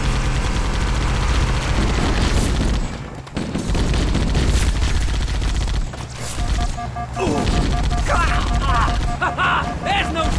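Gunfire in the video game Halo CE crackles as dense bursts of rapid shots and booms, loud and almost continuous, with a short lull, while voices shout over the fighting.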